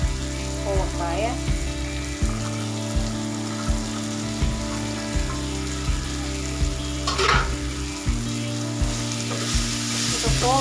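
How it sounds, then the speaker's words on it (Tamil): Ivy gourd (kovakkai) frying in a pan for masala pirattal, a loud, continuous sizzle and crackle up close, with occasional stirring scrapes and a steady tonal hum running underneath. "இப்போ கோவக்காய் வேகிறதுக்கு நம்ம டைம் கொடுக்கணும்."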